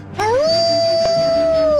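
A single drawn-out dog-like howl used as a radio segment sound effect rises and then holds a steady wailing tone, loud and alone.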